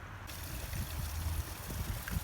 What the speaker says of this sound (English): It's kind of a beautiful little waterfall coming down over a tree.